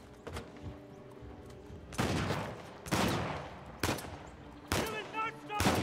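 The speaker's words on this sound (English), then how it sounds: "Why why why can you shoot me from that far away?" Gunfire in the video game Uncharted: The Lost Legacy, several sharp shots and short bursts spaced a second or so apart, loud and punchy against a quiet background hum.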